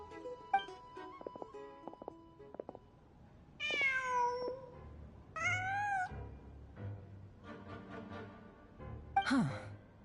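Cat meowing in the video game Genshin Impact, two drawn-out plaintive meows with a rising-falling pitch, followed by a shorter chirp-like call, over quiet ambient game music with soft plucked tones.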